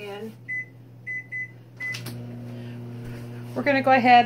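A microwave oven heating a hamburger hums steadily after a few short beeps and a door clunk, with a voice speaking over the end.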